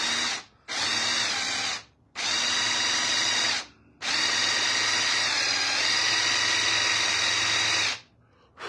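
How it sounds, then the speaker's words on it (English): A power drill boring a channel through material during a build, running in several sustained whining bursts of one to four seconds separated by short pauses, loud and close, with no voices. "as the drill is coming through, it's creating a channel"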